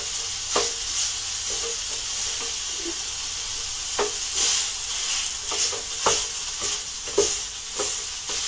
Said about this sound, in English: I've already started browning the meat, just getting it all nice and spread out on the pan, running it on low heat.